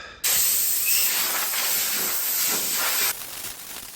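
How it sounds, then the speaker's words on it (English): A compressed air line blasts sand off a bare-metal steel chassis for a custom twin-turbo post van, a loud, steady, close hiss that runs about three seconds before dropping to a quieter hiss. "blow it all off, get rid of all the sand"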